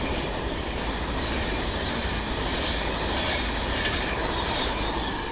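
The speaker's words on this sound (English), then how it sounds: "390156 with an Avanti West Coast service up to Glasgow Central" A Class 390 Avanti West Coast electric train passes through Stafford station on the West Coast Main Line, a loud, close, continuous roar of wheels and rails with faint squeal and rhythmic clatter throughout.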